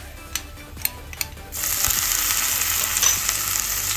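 Ginger paste hits hot oil in a pan of pounded spices and bursts into a loud, steady sizzle, after a few quiet scrapes and taps at the start.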